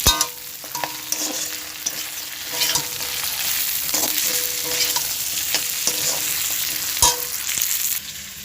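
Boiled chana dal goes into a pan of fried katla fish heads, and a loud continuous sizzle follows with scattered spatula scrapes and knocks.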